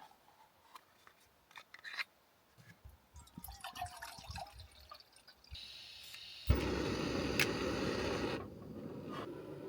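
Scattered small clicks and rustles give way to a steady gush of boiled water being poured into a food pouch, running for a couple of seconds before stopping.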